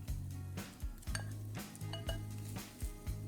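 A spatula scrapes and taps steadily against a pan while stirring egg fried rice, producing repeated close metallic clinks and scrapes over a low background hum.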